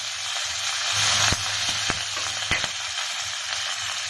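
Curry leaves dropped into hot oil already holding mustard seeds and asafoetida, a bright continuous sizzle with a few sharp pops and crackles scattered through, close and steady with no talking.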